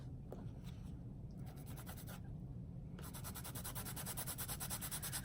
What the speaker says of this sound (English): Let me sand that.